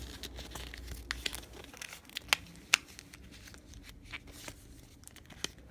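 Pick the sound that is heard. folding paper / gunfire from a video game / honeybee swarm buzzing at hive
folding paper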